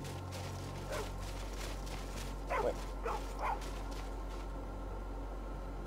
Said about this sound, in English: Wait. Stray dog.